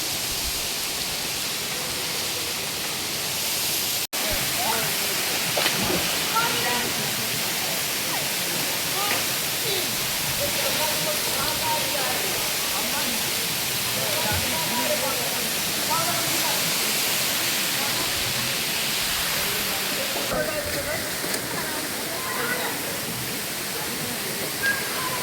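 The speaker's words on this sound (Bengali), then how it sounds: "এটা মতিঝর্ণা দেখো।" Moti Jharna waterfall roaring in a steady, dense broadband rush that fills the whole stretch, with faint voices of visitors partly buried beneath the water noise.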